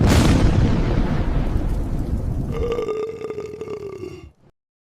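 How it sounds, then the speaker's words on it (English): A single long, loud, guttural burp close to the mic, rumbling and rough at first, then narrowing into a drawn-out tonal croak before cutting off abruptly. "just a little bit profane, a little burp with the cough"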